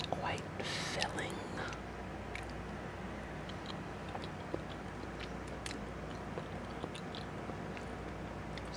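Someone eats a sweet potato up close, with soft, wet chewing and mouth sounds over a steady background hum from a fan, plus occasional small clicks and taps.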